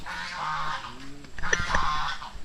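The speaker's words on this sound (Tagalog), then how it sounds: "Mayroon ng gansa dito." Geese honk a few times nearby over a low background rumble, near a waterfall in Bulacan.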